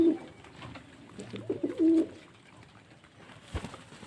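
Pigeons coo softly in a low, rolling burst midway through, with a few faint calls before and after against quiet background noise.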